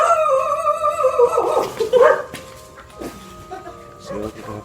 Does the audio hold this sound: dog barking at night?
yes